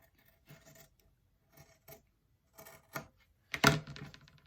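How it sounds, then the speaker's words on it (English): Scissors snip through quilt fabric along a drawn line in short, separated bursts of cutting and rustling, close and quiet in a still room. "I'm just going to cut out these squares on my drawn line."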